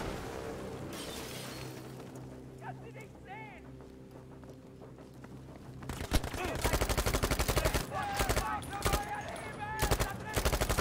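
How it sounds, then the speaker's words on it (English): Gunfire in the Battlefield V campaign: after a quieter stretch with a voice, dense rapid bursts of shots erupt loud and close, continuing through the second half. "I don't know what I'm getting shot at either."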